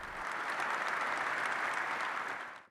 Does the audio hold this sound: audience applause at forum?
yes